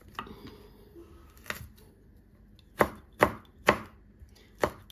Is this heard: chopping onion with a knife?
yes